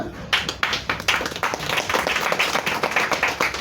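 An audience claps for event partners at an awards unveiling in Kenya, dense rhythmic applause that is loud and steady throughout.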